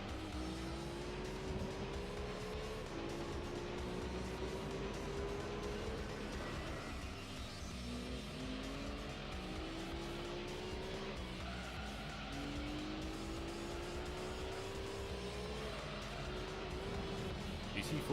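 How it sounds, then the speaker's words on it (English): A Ford GT40 race car in Gran Turismo 3 A-Spec, its engine droning loudly with rising and falling revs through gear changes, plus tire squeal and skidding through corners, continuous and close. "GT40 race car pitting in."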